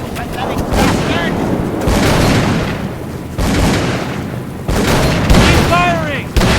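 Gunfire in the horror video game Call of Cthulhu: Dark Corners of the Earth, with loud booming shots repeated in bursts across the stretch and a voice briefly calling out between them.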